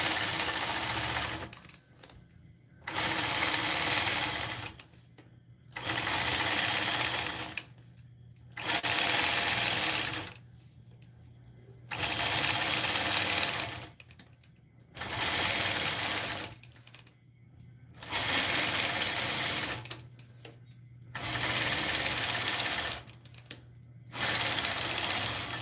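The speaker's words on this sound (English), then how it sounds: "I'm stitching around that box and point to point curves." Sewing machine stitching a quilt during ruler quilting, running in steady bursts of several seconds each with short pauses between, close and clear with a low motor hum underneath.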